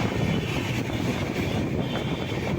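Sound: express train running at speed

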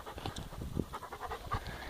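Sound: dog panting

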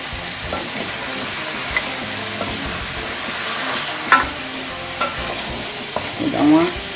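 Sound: stirring vaca atolada beef stew sizzling in a pot

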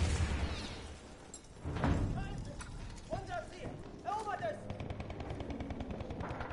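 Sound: gunfire in video game Battlefield 1

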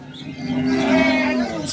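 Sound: cow mooing

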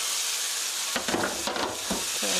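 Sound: pork and green onion stir-frying in a pan

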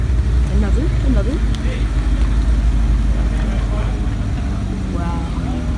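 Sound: Audi R8 sports car rolling in

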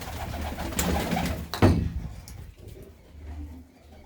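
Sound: pigeons cooing in a loft

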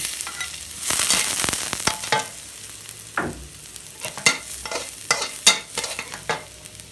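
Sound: stir-frying vegetables with garlic in a pan

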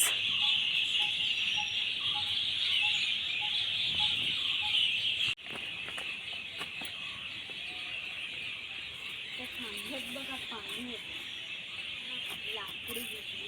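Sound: birds calling

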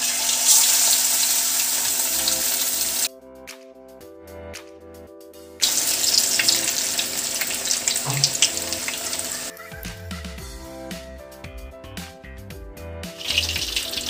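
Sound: Apollo fish pieces deep frying in hot oil

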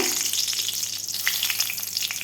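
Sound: bay leaf and dried chilli sizzling in mustard oil

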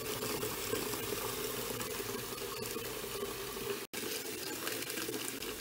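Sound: filling a bucket with hot water

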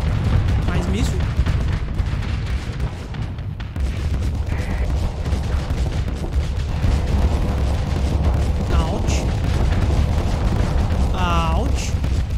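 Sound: missile explosions and bombardment in the video game Starsector

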